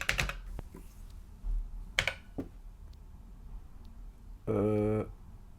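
Typing on an Atari computer keyboard: a few scattered clicky keystrokes and taps, close by, with a short voiced sound near the end.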